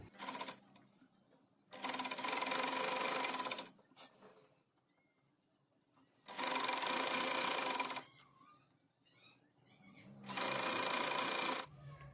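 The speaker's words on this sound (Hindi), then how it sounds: "डोरी को डबल फोल्ड कर लिया है। अब इसे आधे इंच पे स्टिच कर लेंगे।" A sewing machine stitches a double-folded fabric cord for a trouser bottom in three loud, steady bursts of rapid mechanical whirring, each a couple of seconds long, separated by quiet pauses.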